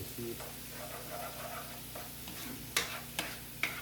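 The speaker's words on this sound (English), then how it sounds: "See, and you just stir it in" Chicken base is stirred into a sizzling mushroom cream sauce for pork chops: a soft, continuous sizzle with scraping stirs, then three sharp spoon taps against the pan near the end.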